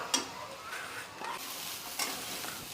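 Grated fresh coconut and jaggery sauté in ghee for a modak filling, producing a quiet sizzle broken by repeated scraping stirs of a spoon against the pan.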